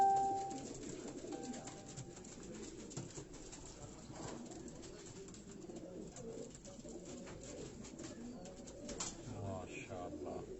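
Pigeons coo softly in a Karachi pigeon-keeping setting, low and fairly quiet, with a voice talking over them.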